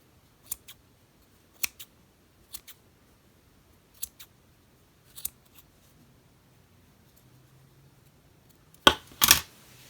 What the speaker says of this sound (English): take your scissors and trim all those loops